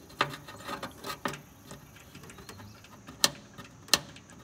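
A hand ratchet tightens the bolt on a ground strap on the frame of a 1973 truck, giving irregular clicking strokes with a few sharp, loud clicks among quieter ratcheting, close up and with no talk.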